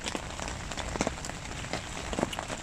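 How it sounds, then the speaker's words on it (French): Heavy rain falls steadily on a riverbank during a carp fishing session, a dense continuous patter with scattered louder drops striking nearby surfaces, close and unbroken throughout. "Que c'est déjà la grosse flotte, hein?"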